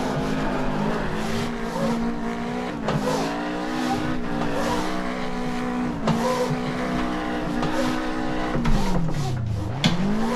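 Toyota GT86 drifting in the Assetto Corsa racing game, a continuous engine drone with shifting revs and tire squeal, dipping sharply near the end, loud and steady throughout.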